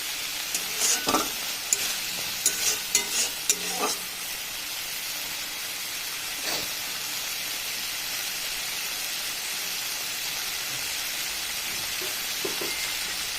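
Spice paste fries in oil for a puti fish dish, a steady close hiss of sizzling broken by several clicking spoon stirs early on and a few sharp crackles.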